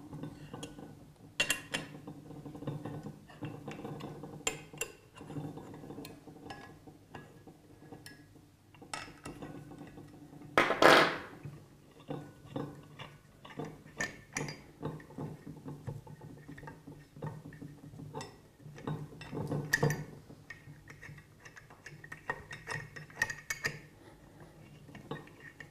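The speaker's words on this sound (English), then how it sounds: "we're going to undo four socket heads, holding the air valve on." Socket head screws are undone on a pump air valve, giving scattered small metallic clicks and clinks of tool on metal at close range, fairly faint, with one sharper clank partway through and no talking.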